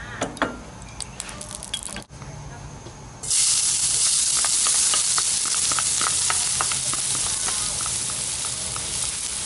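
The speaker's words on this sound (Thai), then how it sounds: "พอตั้งกระทะร้อนๆนะครับเราก็ใส่น้ำมันพืชลงไปครับ" Vegetable oil sizzles in a hot pan while Thai pork chili dip (nam prik ong) is cooked. After about three seconds of quiet handling, a loud, steady frying hiss begins and continues up close without pause.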